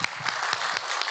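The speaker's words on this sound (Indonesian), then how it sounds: "Tepuk tangan dulu untuk" Applause for a guest of honour at an agricultural ministry product launch in Indonesia: a short burst of steady, dense clapping from a crowd, moderately loud, with no voices over it.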